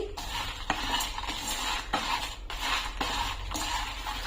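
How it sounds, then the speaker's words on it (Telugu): Spices with cardamom and white sesame seeds dry-roasting in a pan, stirred with a spoon that scrapes the pan in repeated strokes about every half second over a soft, steady crackle. "ఒకసారి మళ్ళీ కలుపుకొని వేయించుకోవాలి"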